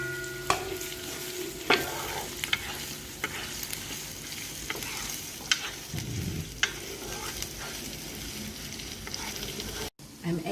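Blended sambal paste for prawn petai fries in a pan with a steady, moderate sizzle, broken by occasional scrapes and taps of the stirring spoon, close by with no talking.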